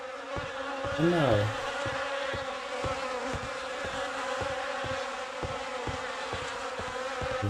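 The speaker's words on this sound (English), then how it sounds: "The air is heavy with the stink of rot and the buzzing of those damned insects." Insects buzz steadily and close in a video game's rotting mountain area, a dense droning swarm with a louder wavering pass early on, over a low ambient bed with regular faint thuds.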